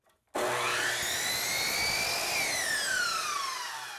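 A miter saw set to a 22.5-degree angle cutting polyurethane crown molding: the motor spins up sharply, then a loud, steady whining cut that slowly winds down, close and alone.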